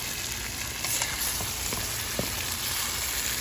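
Armored catfish fries in hot oil on a stove, giving a steady close sizzle with small crackles and pops throughout.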